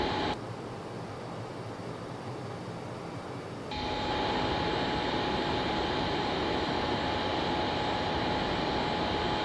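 Inside the cockpit of an F-18 Hornet jet on approach from Pensacola Naval Air Station toward Tyndall AFB, a constant roar of engine and airflow jumps noticeably louder and harsher partway through as the landing gear is lowered, with no one speaking.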